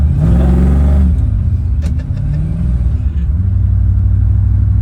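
A 4,400-pound car with about 150 horsepower drives with a loud, close engine rumble, the revs climbing and dropping between gear shifts, with brief clicks and a faint bit of speech.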